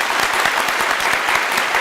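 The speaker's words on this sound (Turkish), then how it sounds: "Kocaman bir kocaman alkış." An audience on a televised word quiz show claps in a dense, steady burst of applause, loud and close, with no voices over it.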